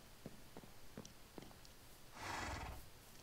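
Horse neighing in a video game, a breathy whinny near the end following a few soft rhythmic thuds, quiet and alone without talk.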